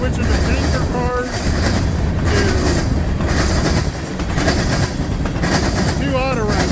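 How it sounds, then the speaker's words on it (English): A short CSX freight train of gondola and tanker cars rolls past close by at Galatea, with a steady heavy rumble, rhythmic clickety-clack over rail joints and occasional faint wheel squeals. "Gondola cars switching to tanker cars"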